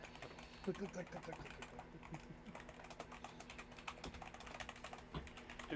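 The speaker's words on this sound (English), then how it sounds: "Katie, stop typing for a second" Rapid typing on a computer keyboard clatters steadily and close by, quiet overall, with faint voices talking now and then.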